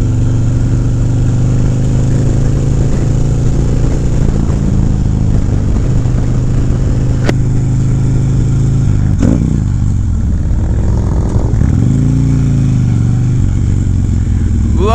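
Ultra Classic motorcycle being ridden, a loud, close, continuous engine rumble with small surges in revs and a shifting tone near the end, wind noise alongside.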